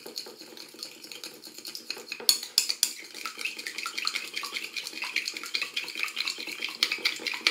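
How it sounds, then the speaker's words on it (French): Cream and mustard are whisked together in a bowl for a salad dressing, giving quick repeated clinks and scrapes of a utensil against the dish, close and fairly soft, with no talk. "On mélange la crème avec la moutarde."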